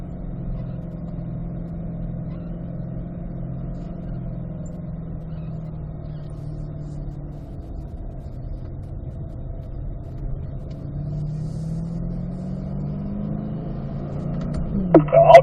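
Race cars on a warm-up lap drone with a steady engine hum, the pitch dipping and rising with shifts, before a sharp burst of louder noise at the end.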